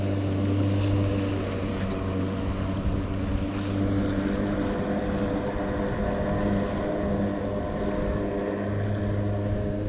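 A Kawasaki JS300 jet ski runs on the water with a steady, loud engine drone and hull and spray noise throughout, with no talk.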